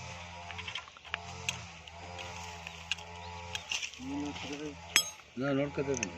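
A wrench clicks and ratchets while loosening the wheel bolts on a 9HP AgriMall tiller, with faint metallic taps and clinks up close, under a steady low engine hum and brief quiet speech.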